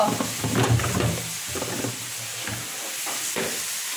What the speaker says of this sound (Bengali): অল্প সামান্য পরিমাণ তেল দিব, আমি মাছটা সিদ্ধ করবো তো